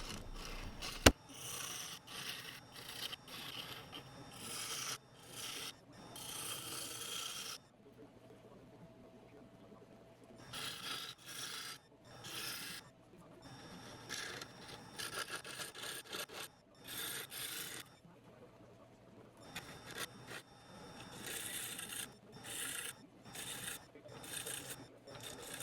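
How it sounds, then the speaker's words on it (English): Bursts of rough, raspy sanding on a wooden bowl come in repeated strokes separated by quiet pauses, with a sharp knock near the start. "I will sand it again to a high grit"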